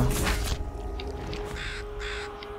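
Crows caw in a run of harsh calls from the Volgarr the Viking video game, set over a steady tonal game soundtrack with other effects mixed in.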